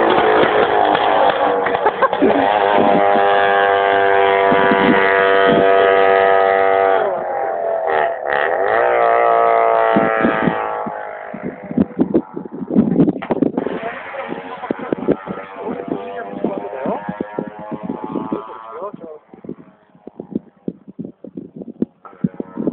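Cars at the Týn nad Bečvou hill climb race near the finish pass close by, including what sounds like a Trabant, with a loud revving engine whose pitch sweeps and fades, followed by clattering and voices chattering nearby.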